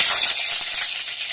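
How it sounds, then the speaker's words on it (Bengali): Pointed gourd frying in hot oil in a wok: a loud, dense, continuous sizzle and hiss, close up with no voices. "আমি পটল ভেজে নিচ্ছি।"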